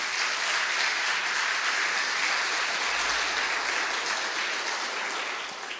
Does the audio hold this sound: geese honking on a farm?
no